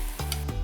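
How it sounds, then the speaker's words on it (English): Cubes of Spam drop from a marinade into a hot sauté pan and crackle sharply, with a few quick stirring scrapes and bursts of frying over a brief moment. "Listen to that sizzle."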